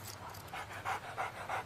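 A dog in a TV commercial pants in quick rhythmic breaths, about half a dozen audible pulses, close and fairly soft with no talk over it.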